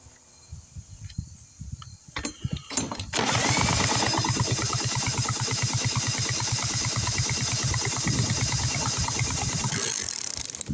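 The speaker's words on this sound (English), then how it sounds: "This drill's awful." A cordless drill whirs and ratchets steadily, spinning a 1971 Lawn-Boy mower engine over without it catching; a few clicks and knocks come first, then continuous mechanical grinding.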